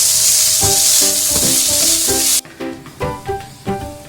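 Quinoa pulao sizzles steadily in a pan over low flame, with a hissing wash that cuts out partway, followed by a series of distinct stirring scrapes and clatters at a regular pace.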